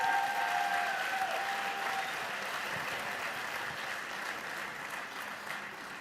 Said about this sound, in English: one more round of applause for those nominees and winners